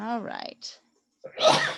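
A single sharp sneeze bursts out near the microphone right after a person speaks briefly, with a short silence between.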